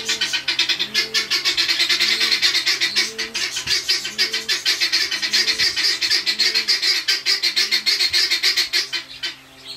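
Pigeons cooing and calling continuously at close range, layered rhythmic bird sounds filling the whole stretch with dense chatter and soft repeated coos, no talking.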